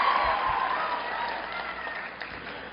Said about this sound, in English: please give me claps for this new word that I've taught Yale.